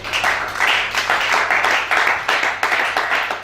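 A church congregation in Libreville claps together in loud, dense, continuous applause with a roughly rhythmic pulse, filling the room for several seconds.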